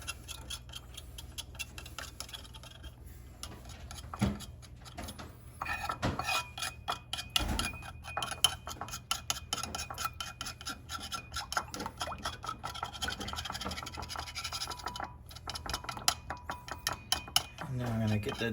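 Wet cornbread ingredients with a broken-up egg whisked in a bowl, giving a steady run of quick scraping, tapping strokes close by, with no talking.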